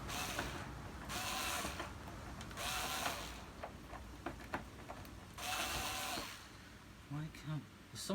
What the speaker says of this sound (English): Let's take out these screws.